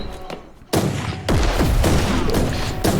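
Gunfire in Warhammer 40,000: Inquisitor bursts in loud and close, a sudden blast followed by a sustained volley of rapid shots and heavy thumps that fills the rest of the moment.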